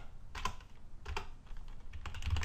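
Keys clack on a computer keyboard as a MySQL database command is typed, a short burst of close, crisp keystrokes in an uneven rhythm with no talking.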